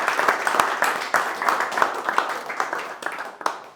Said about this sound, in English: Let's give Noah a round of applause.